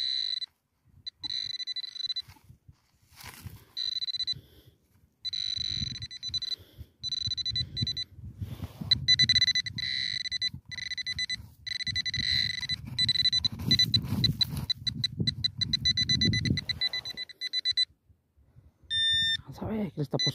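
Metal detector pinpointer emitting steady high electronic beeping tones in bursts of varying length while treasure hunting, interrupted by rustling digging noises and someone talking.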